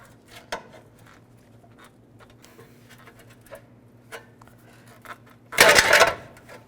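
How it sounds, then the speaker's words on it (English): A pry bar levering a hubcap off the wheel of a 1964–72 Pontiac GTO: faint scrapes and ticks, then a loud metallic clatter and rattle for about a second as the hubcap comes free, close and without talk. "this hubcap, just use a pry bar."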